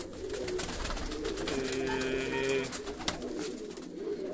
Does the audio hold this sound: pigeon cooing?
yes